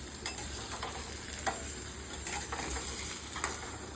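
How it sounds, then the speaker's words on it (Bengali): Potatoes sizzling in hot oil in a wok, the first step of a cauliflower curry, with a constant crackle broken by scraping stirs, close up and fairly quiet. "এখন প্রথমে আলুগুলো ছাড়া হচ্ছে, এরপরে ফুলকপি ছাড়া হবে কড়াইতে। তারপর আলুটা একটু ভেজে নিচ্ছে।"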